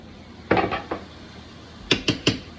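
A spoon scrapes seasoning out of a bowl while making shepherd's pie, giving a quick cluster of close clinks and scrapes, a pause, then three sharp, evenly spaced taps against the bowl.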